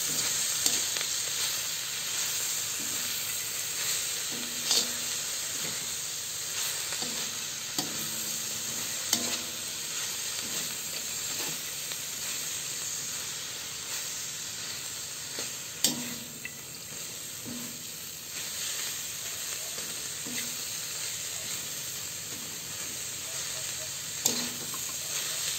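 Kangkong and chicken being stirred in a frying pan, a steady sizzle with repeated scraping strokes of the utensil against the pan, close and continuous.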